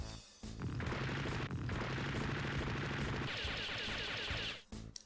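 Gunfire from a Gundam GGDS video game: a dense, loud burst of rapid synthesized shots lasting several seconds, shifting to a brighter, higher-pitched effect near the end before cutting off.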